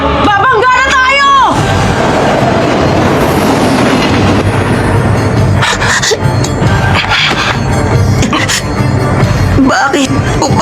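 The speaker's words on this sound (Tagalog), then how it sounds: "Parating na yung isang tren!" A train approaches in an anime action scene, its rumbling roar and rail clatter loud and continuous under excited shouting and dramatic music.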